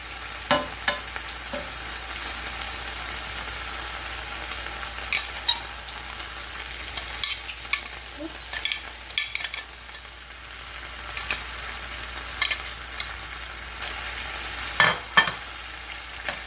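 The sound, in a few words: onions and peppers frying for cheesesteak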